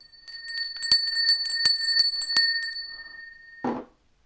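A bright notification bell sound effect, a rapid run of ringing metallic dings with sustained tones, ending in a short soft thud, close and clear with no talk.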